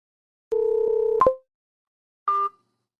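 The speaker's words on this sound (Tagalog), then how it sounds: "Tatay, binabaan lang ako ng telepono ni Ethan." A telephone receiver gives steady tonal beeps after the other party hangs up on the call, a continuous tone broken by a click, then a short second burst, clear and close with no talk.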